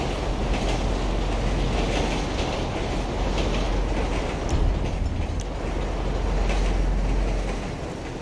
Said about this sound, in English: And there's a train coming by.